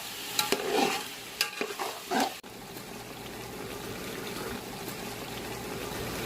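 Tomatoes being stirred into chicken pulao in a cooking pot: a few scraping strokes of the spoon early on, then a steady close sizzle of the frying mixture with no talking.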